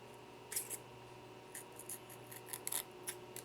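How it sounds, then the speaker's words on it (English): A dull carbon fiber Frank B stiletto knife saws through a sheet of paper, making quiet, scratchy rasping strokes in short irregular bursts with no talking. "Get this piece of paper and try to cut it."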